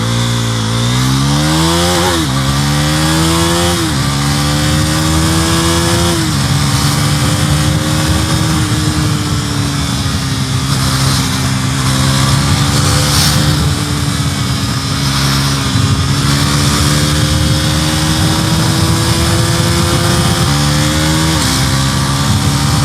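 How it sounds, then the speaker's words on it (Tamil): Bajaj Pulsar NS400Z 400cc motorcycle with a quickshifter, engine loud and close, revving up in rising sweeps with quick clipped gear changes and a downshift, droning steadily throughout with no voices. "இப்போ 4th கியரில் குவிக் ஷிஃப்ட் யூஸ் பண்ணியிருக்கேன். டவுன் ஷிஃப்ட் பண்ணுறேன்."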